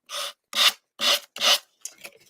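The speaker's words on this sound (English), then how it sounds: "I'm just sanding off the excess paper." Four long rasping strokes of sandpaper sanding excess paper off an edge, steady and evenly spaced, followed by a few lighter scuffs, close up and with no talking.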